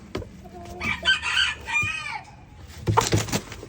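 Broody hens in a backyard chicken coop, clucking and squawking in short agitated bursts close by, with a brief soft voice in the background.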